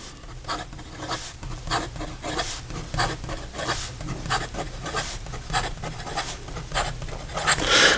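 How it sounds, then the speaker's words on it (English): A Visconti Breeze fountain pen nib scratches across paper in quick, close, rhythmic strokes, with a slightly scratchy texture and no talking. "in regard to reverse writing, it is a little bit scratchy"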